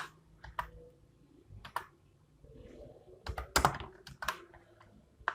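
Typing on a computer keyboard in short irregular bursts of crisp key clicks, close and fairly quiet, with brief pauses between groups of keystrokes.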